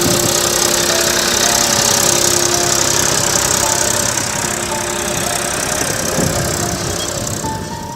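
A tractor engine runs loudly and close, a steady rough rumble with knocking vibration that holds for several seconds and eases slightly toward the end.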